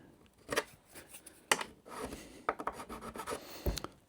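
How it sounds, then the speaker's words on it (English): Dried glue build-up being scraped off a pallet on a workbench: irregular short scratchy strokes and small knocks, close and fairly quiet, with no speech. "little build up of messy little bits of glue, which sometimes you have to scrape off"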